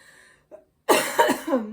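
A few harsh coughs in quick succession, close and loud, after a brief quiet moment with a faint sound.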